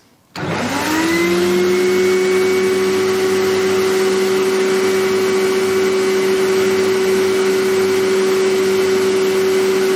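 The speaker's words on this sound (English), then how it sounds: "this vacuum cleaner isn't actually meant, I don't think, for liquids" A vacuum cleaner sucking water through a hose from a milling machine starts abruptly and runs at a steady, loud, high whine with a constant droning hum for the full length, no talk.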